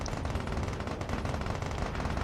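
Field cannons in Space Engineers firing in a steady rapid stream of close, loud, rattling shots throughout a large battle, heard alone without talk.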